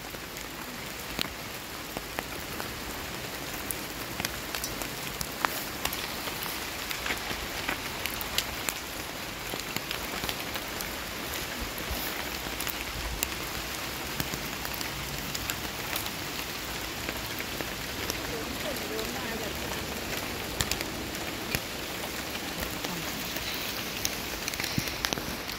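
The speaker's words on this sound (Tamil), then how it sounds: "இந்த மழை பெய்யுது, தண்ணி படுது" Steady, dense rain falls among tall trees in the Batumi Botanical Garden in Georgia, a continuous close wash of drops pattering on leaves and surfaces with no letup.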